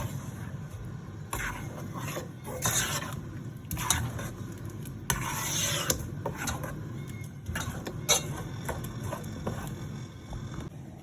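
Chicken stirred in a cooking pot, with soft wet squishing and scraping strokes against the pot at an irregular pace, close and moderately quiet over a low background rumble.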